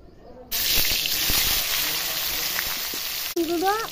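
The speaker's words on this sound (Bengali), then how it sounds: "বেগুনগুলো দিয়ে দেবো তেলের মধ্যে।" Brinjal pieces seasoned with salt and turmeric hit hot oil and start to sizzle and fry loudly and continuously up close. A voice speaks faintly at the very end.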